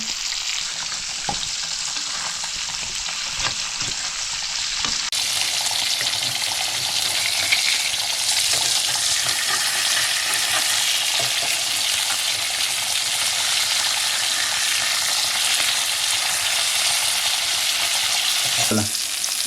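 Mackerel fries in oil in a pan over a wood-fired stove, with a loud, steady hiss and crackle that grows denser after a few seconds and a few light knocks, no talking.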